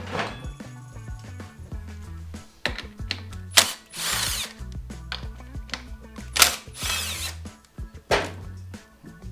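Power tools and hand tools work on the front wheel of a Honda motorcycle to take off the brake caliper, with intermittent drill whirs, ratchet clicks and metallic clatter at close range.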